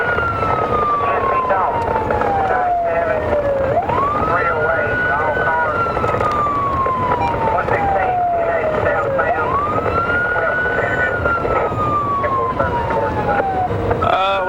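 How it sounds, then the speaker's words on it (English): A highway patrol car's siren wails during a chase, its pitch repeatedly sweeping slowly downward and then rising sharply, loud and close over a steady engine and road roar. "Blue lights and siren are activated."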